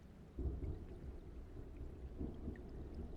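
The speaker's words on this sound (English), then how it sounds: "you can hear like the rain and the wind start up and the thunder gets louder" Rolling thunder with rain and wind as storm ambience for a Call of Cthulhu tabletop game, a low, faint, continuous rumble swelling in soft waves, with no voices.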